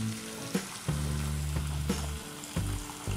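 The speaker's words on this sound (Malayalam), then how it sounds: "ഇതിലേക്ക് ഞാനൊരു ഒരു ഗ്ലാസ്സോളം നല്ല തിളച്ച വെള്ളമാണ് ആഡ് ചെയ്യുന്നത്" Boiling water poured into a pan of chicken gravy for a restaurant-style curry bursts into loud sizzling and bubbling, with a few sharp clinks as the pan is stirred, close and continuous.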